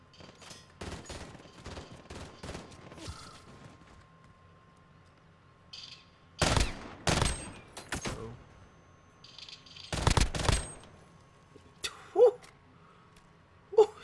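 A FAMAS rifle fires in Call of Duty Modern Warfare: sharp, close bursts of gunshots come in clusters with short quiet gaps between them, and a few softer game effects sit under them near the end.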